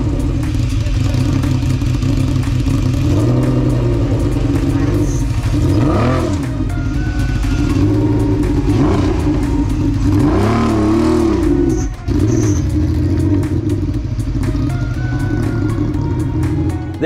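Lamborghini Murcielago V12 running loudly and steadily, with several revs rising and falling through the clip, close by and alone.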